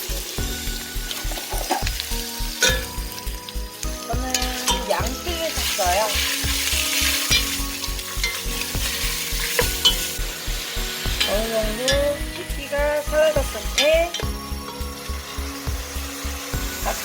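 Beef sizzles and crackles steadily in sesame oil in a hot pot while a utensil scrapes and stirs with a repeated rhythmic knocking.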